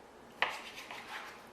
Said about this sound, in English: I've got my breakfast ham slices, and I'm just cutting them about an inch, half an inch